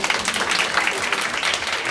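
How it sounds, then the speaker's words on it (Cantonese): An audience applauds the top 8 contestants at a school singing competition, with dense, lively clapping that carries steadily for the whole moment. "俾啲掌聲自己先"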